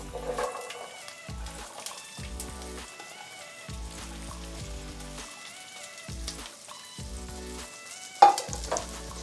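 Tindora fries in a pan where mustard seeds pop in hot oil with hing, giving a steady crackling sizzle under faint background music and a sharper clink near the end.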